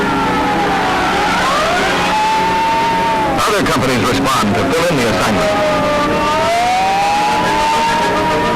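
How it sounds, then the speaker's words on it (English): Fire engines and a ladder truck roll out of a city fire station, their sirens sweeping up and down loudly, with a burst of engine and street noise in the middle and someone narrating over the top. "Engine and Ladder Company 35 and Battalion 5 roll out of this station."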